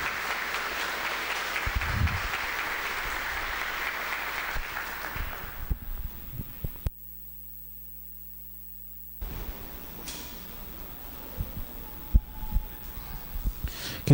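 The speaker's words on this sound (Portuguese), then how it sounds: "Salva de palmas, a palavra de Deus." Church congregation applauding during a Catholic Mass in Lent: a sustained patter of hand claps for about six seconds, then dead silence, then faint room noise and scattered small sounds.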